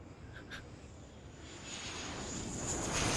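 An aircraft engine in NieR: Automata, a steady jet roar that swells louder over a few seconds, with a couple of faint blips near the start.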